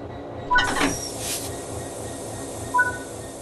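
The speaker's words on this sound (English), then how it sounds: "Now couple the locomotive to the freight wagons." A Class 66 diesel locomotive couples to freight wagons in the Train Sim World 3 game: a sharp metallic clank, then a short burst of air hiss, over a low steady rumble, with a fainter knock later.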